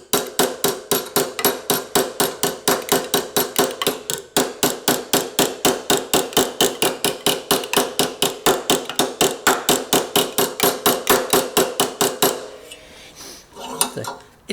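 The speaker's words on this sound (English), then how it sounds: "So yeah, just light taps." Light, even hammer taps on sheet metal being shaped into a curve, a fast steady run of bright metallic strikes close up that stops near the end, followed by faint handling noise.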